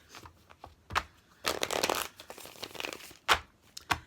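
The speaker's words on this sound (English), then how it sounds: "Let me shuffle up real quick, you guys." Tarot cards are shuffled close up in uneven bursts of riffling and flicking, with short quiet gaps between, and no voice over it.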